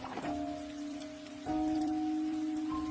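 Heavy rain pours down as a dense, continuous wash that grows louder halfway through, and sustained tonal notes ring over it.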